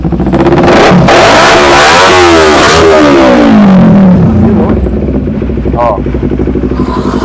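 A Kawasaki Ninja 250 motorcycle, a 250cc bike, revs up loudly close by, its engine pitch rising and falling through a throttle blip before settling to a lower running note, with a brief voice exclamation.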